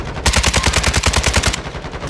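Automatic gunfire in the video game Warzone 2, a loud rapid burst of about fifteen evenly spaced shots lasting over a second, followed by fainter sound, close and with no talking.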